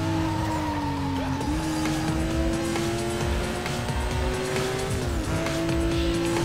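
Racing cars in Need for Speed: Most Wanted, with a loud, continuous engine roar that shifts pitch through gear changes, plus screeching tire squeals and skids, close and unbroken.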